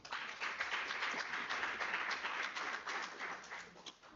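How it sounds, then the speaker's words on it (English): An audience at a research seminar claps together in sustained, fairly close applause with busy overlapping hand claps that thin out slightly at the very end. "Colleagues, let's give everybody a round of applause."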